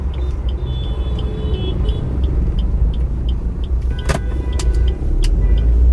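A car drives along a road, its engine and tyre rumble steady and close throughout, with a brief whirring and clicking near the end. No one speaks.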